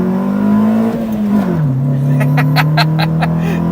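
A 1994 Honda Civic with a Mini-me engine swap accelerates hard in first gear. Its loud, close engine drones steadily, dips in pitch, then carries on under a run of sharp, rapid clicks.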